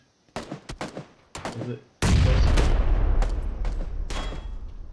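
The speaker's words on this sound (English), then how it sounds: "in comes a grenade" A grenade bursts in a PUBG solos tournament match, landing as one loud sudden blast that rolls into a long booming rumble, preceded by a brief spoken voice.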